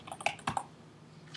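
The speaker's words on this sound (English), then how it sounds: "If you just start typing what you would like to say" Light, quick keystrokes on a computer keyboard: a few scattered taps and clicks, soft and close, in an otherwise quiet room.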